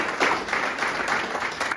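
Audience applause at a community political gathering in Colombia's Antonio Nariño locality, a dense, steady patter of many hands clapping for about two seconds.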